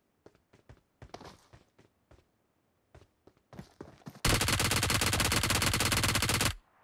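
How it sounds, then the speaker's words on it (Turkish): Gunfire in PUBG Mobile on the Livik map, a few scattered single shots followed by a long, loud, sustained burst of automatic fire that cuts off abruptly. "Bu iki oldu seni vurdum."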